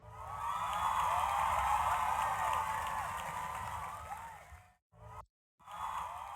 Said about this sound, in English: If music equals yes, then it will play the cheer forever.